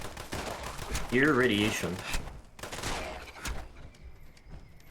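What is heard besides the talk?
gunfire from a new gun in the video game Fallout 76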